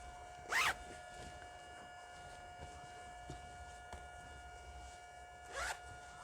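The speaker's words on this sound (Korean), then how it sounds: "지퍼가 잘 달렸는지 확인을 해 보도록 할게요" A zipper on a sewn console cushion cover is pulled in two quick close rasps, one near the start and one near the end, over a faint steady hum.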